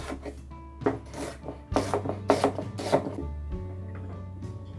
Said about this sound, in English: I'm going to chop this as well.